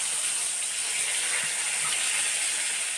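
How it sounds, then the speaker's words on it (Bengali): Eggplant frying in leftover fish oil gives a continuous, even hiss, close and fairly loud, with no speech over it. "ওই তেলেই, মাছের তেলেই আমি বেগুনটা একটু ভেজে নেবো।"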